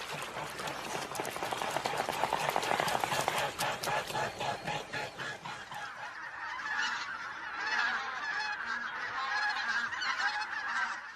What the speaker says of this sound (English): thousands of bean geese and greater white-fronted geese descend on the Morava's banks